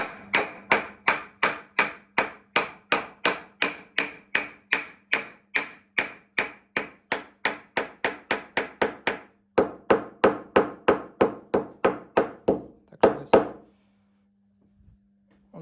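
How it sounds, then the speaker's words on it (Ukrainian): Hammer blows drive an oak slat into a wooden tabletop during furniture making, roughly forty sharp, evenly spaced knocks in a steady rhythm, close and loud, with a brief pause near the end and a few final taps before quiet. "Добі молотком."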